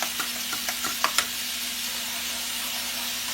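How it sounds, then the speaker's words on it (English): Butter melting in a hot pan while making creamy grits gives a steady, even sizzle and hiss throughout, with a few faint crackles and pops early on and no talking. "Our butter is melting."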